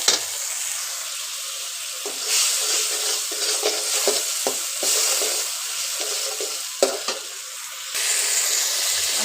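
Spice masala fries and is stirred in a pan, giving a steady bright sizzle broken by repeated scraping strokes of the spoon, close and loud with no talking.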